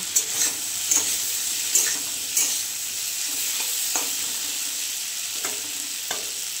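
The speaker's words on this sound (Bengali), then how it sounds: "আলুটা একটু মশলার সঙ্গে কষে নেব।" Potatoes fry with spices in a pan for poppy-seed paneer, a steady bright sizzle broken by several sharp scraping stirs of a spatula, close and alone.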